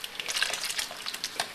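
Giblet gravy bubbling and sizzling in a pan, a steady close crackle with scattered pops throughout.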